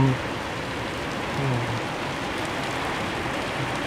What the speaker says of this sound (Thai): ฝนตกแรงมากครับลม